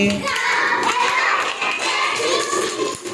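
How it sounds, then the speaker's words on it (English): Children clap their hands along to a sung nursery rhyme, a busy roomful of small hands beating together under singing and chatter, lively and close throughout. "Come along and clap with me."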